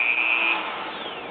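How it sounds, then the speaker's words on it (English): A small Dremel rotary tool whines at high speed while drilling a tiny hole in a miniature wood carving, loud and close, its pitch sagging slightly as the bit bites into the wood. "all I'm going to do is just come along here and just drill that little hole there"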